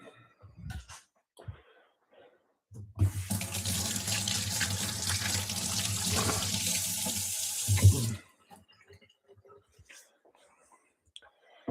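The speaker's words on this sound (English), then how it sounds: "So I'm going to wash my hands quick." Running water from a tap into a sink while hands are washed, a steady rushing flow lasting about five seconds that starts and stops abruptly, with faint quiet voices and small clicks around it.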